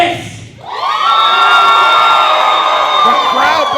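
A wrestling crowd cheers and whoops loudly for Titus, a big sustained roar with children shouting that swells after a short lull and holds steady to the end.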